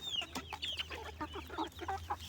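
Chickens roam a farm plot, clucking in short, irregular bursts, soft and fairly close, with no talking.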